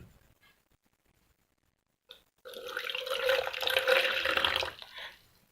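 After a short quiet pause, water starts pouring steadily into a container, a rushing splashy flow that holds for a few seconds then cuts off.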